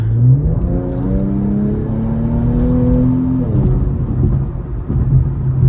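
An Infiniti Q50 Red Sport engine revs up steadily under acceleration, its pitch climbing through the gears with a brief dip and shift partway through, loud and close without any voices.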